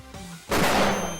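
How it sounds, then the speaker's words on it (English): A flashbang grenade in a video game bursts suddenly into a loud, broad blast that lingers for a moment, following quieter game sounds and low background noise; no talking. "Can you do a flashbang, Josh?"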